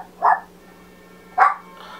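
A single dog in a living room gives two sharp, separate barks about a second apart, close and fairly loud, set off by passing traffic, with a faint steady hum behind.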